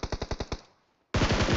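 Rapid automatic gunfire in an esports battle royale match: five quick evenly spaced shots, a brief silence, then a dense, loud continuous burst of fire.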